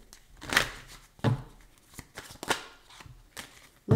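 Tarot cards are shuffled in several quick riffling bursts, close and crisp, separated by short pauses, with no talking.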